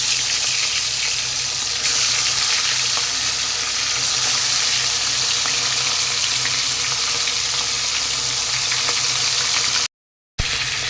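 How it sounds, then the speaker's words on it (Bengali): Steady crackling sizzle of eel (baan fish) frying in hot oil, continuous and close, with a brief dropout near the end. "তেল গরম হয়ে গেছে তো তেলে অল্প অল্প দিয়ে মাছগুলি ভেজে নেব"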